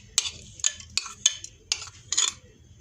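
Finely chopped onions go into a hot pan for a kabab burger, with a series of about seven sharp sizzling, clinking bursts spaced roughly half a second apart as they are stirred, close and moderately loud.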